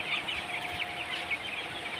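Seventeen-day-old broiler chickens on a farm make a faint, continuous chorus of high peeping and soft clucking that blends into a steady hum, with no voices.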